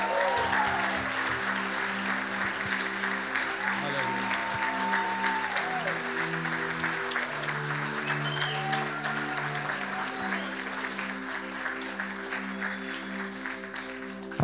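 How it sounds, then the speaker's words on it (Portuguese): A church congregation applauds during a worship service, the steady clapping layered over sustained, shifting musical chords that continue underneath throughout. "dá uma salva de palmas para o Senhor"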